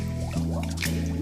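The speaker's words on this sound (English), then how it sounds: "By tilting the glass, you let the air escape." Air gurgles up in short bubbly bursts from a drinking glass tilted underwater, a quick run of wet plops heard close over a steady tonal background.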